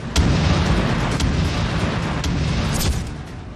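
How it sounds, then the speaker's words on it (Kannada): Bomb blasts from an Israeli and US airstrike dropping 2000-pound bombs on an Iranian missile site: a loud, continuous rumbling roar of explosions with sharper bursts and cracks breaking through. "ಇರಾನ್ನ ಕ್ಷಿಪಣಿಗಳ ಮೇಲೆ 2000 ಪೌಂಡ್ ಬಾಂಬ್ ಹಾಕಿದ್ದು ಕ್ಷಿಪಣಿಗಳ ನೆಲೆಯನ್ನೇ ನಾಶಪಡಿಸಲಾಗಿದೆ"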